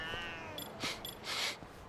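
A cat in the video game Lost Judgment meows, one drawn-out call followed by a couple of short bright bursts, heard close over steady game background noise.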